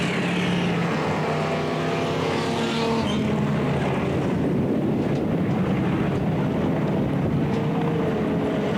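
Classic speedway cars race around the Mildura Speedway dirt track, engines roaring loud and continuous while passing, with wind buffeting the microphone throughout.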